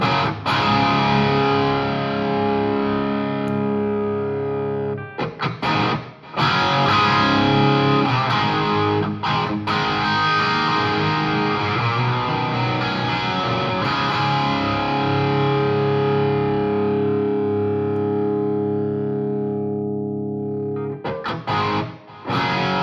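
Electric guitar played through a Ground Zero Ampworks Hellion 100 amplifier, a loud distorted tone with sustained chords and riffs, broken by a few short pauses.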